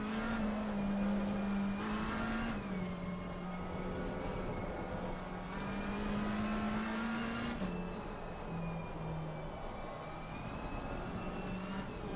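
Race car engine in Assetto Corsa Competizione during an endurance race at Suzuka, a steady loud drone with shifting pitch as the car holds speed and changes gear, continuous throughout with no talking.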